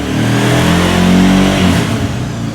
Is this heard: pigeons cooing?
no